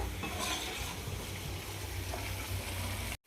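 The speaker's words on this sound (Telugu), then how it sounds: "రెడ్ కలర్ వచ్చేలాగా ఫ్రై చేసుకోవాలి బెండకాయలని" Okra is stir-fried in a pan, giving a dense, even sizzle with soft stirring scrapes close by before it cuts off abruptly, and no talking.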